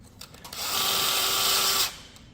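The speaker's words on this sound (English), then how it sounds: "we'll finish off the screws in this end also" A power drill drives a screw into a tunnelhouse frame, a close, steady high whine lasting over a second before stopping, with a few light knocks before it.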